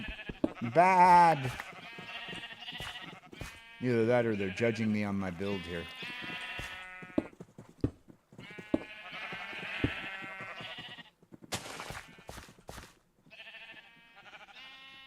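Sheep bleat repeatedly in the Minecraft video game, several wavering calls scattered across the scene amid other game sounds, with someone talking between them.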